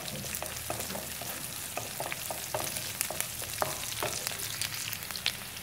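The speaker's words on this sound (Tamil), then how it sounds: "இது நல்லா வதங்கட்டும்." Onion, curry leaves and chili sautéing in hot oil in a pan, a dense continuous crackling sizzle with frequent sharp pops and spatters, close up and steady throughout.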